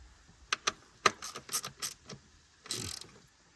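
A ratchet snugs bolts on a truck while changing the CCV, giving sharp close clicking bursts in several short runs followed by a longer rasping ratchet pass near the end, with no talk.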